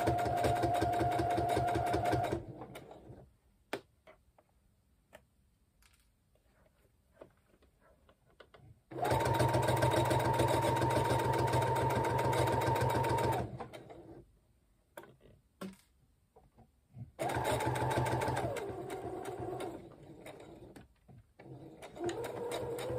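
A sewing machine stitches a shirt sleeve placket in three loud, steady bursts of rapid whirring, each lasting several seconds, separated by near-silent pauses with faint handling clicks.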